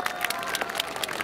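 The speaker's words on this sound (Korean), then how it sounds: "다시 한 번만 더 큰 박수 부탁드리겠습니다" Dense applause from a large audience at a military festival concert, steady and loud throughout the short stretch.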